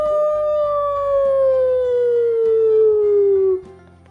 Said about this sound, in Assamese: যেতিয়া এশটা শিয়ালে হোৱা দিছিল